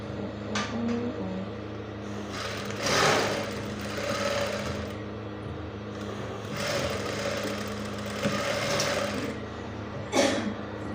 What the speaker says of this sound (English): so that I can sew from the wrong side by 1/2 inch.